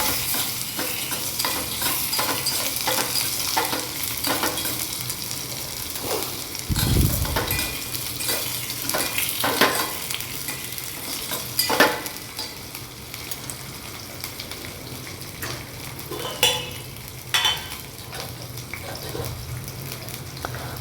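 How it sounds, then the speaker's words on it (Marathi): Potato slices fry in a pan with a steady background sizzle while a spatula stirs and scrapes through them, with a few louder knocks against the pan. "आता या सेटला आपण बटाटे टाकणार आहोत बटाट्याच्या कतल्या याला चांगलं मिक्स करून घ्यायचं आहे"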